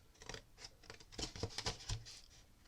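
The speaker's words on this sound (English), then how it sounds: "I'm going to take my scissors, and all I'm going to do is simply cut along here" Scissors cutting through watercolour paper nearby, a quiet series of short crisp snips and rustles in an uneven rhythm, no talking.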